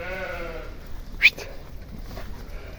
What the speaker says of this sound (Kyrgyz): И козулуу кой бар, ургачы.